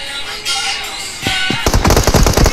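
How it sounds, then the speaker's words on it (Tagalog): Grenades go off in a PUBG Mobile tournament match, with a loud, rapid cluster of booming blasts piling up near the end after a quieter stretch of game noise. "si Jai, si Yumi at si Kiyo ng SZXC ay nagpahagis lang naman ng granada laban sa Team 17"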